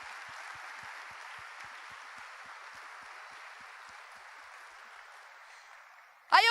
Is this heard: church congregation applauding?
yes